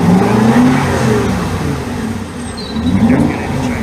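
Aston Martin engine revving with its remote-controlled exhaust valves closed, a loud, close, throaty rise and fall in engine pitch across a few seconds, no talking.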